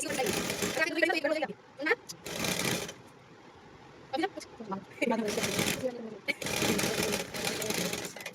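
Sewing machine stitching pant fabric in short motorized bursts of a few seconds each, separated by pauses, close and fairly loud, with a person talking in between the runs.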